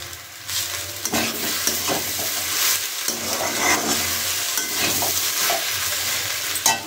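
Semolina (suji) tossed with fried egg bhujia and kasuri methi in a pan, a steady sizzle with repeated scraping strokes of the spoon throughout, close and fairly loud, with no voices.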